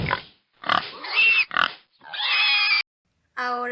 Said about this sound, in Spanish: Ahora vamos a escuchar el sonido del cerdito.